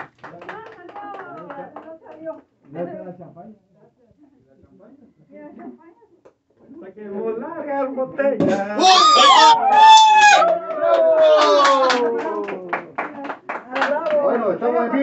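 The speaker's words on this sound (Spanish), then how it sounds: "fuertes aplausos para nuestro creador" Studio audience on a live Latin community radio broadcast from Santa Ana, California claps and cheers in a dense burst during the second half, following stretches of talk, with voices mixed into the applause.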